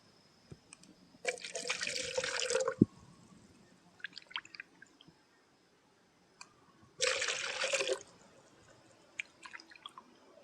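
Water is poured into cups to mix a medicine for durian trees against root and base rot, two separate splashing pours of about one and a half seconds each with faint drips and clicks between them.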